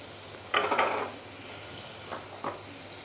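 Vegetables drop into butter in a pan and hiss, with a short loud sizzle burst followed by a steady low frying crackle and two smaller flare-ups.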